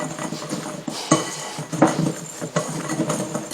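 Dry keto cake ingredients, including baking powder, salt and xanthan gum, being stirred in a bowl: scraping clinks of a utensil against the bowl with a few sharper knocks, close and fairly quiet.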